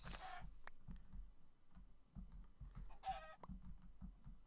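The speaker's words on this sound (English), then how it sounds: "There's more chickens" Several chickens cluck in short, repeated bursts close by in a video game, with a brief higher squawk or crow breaking in twice over a quiet background.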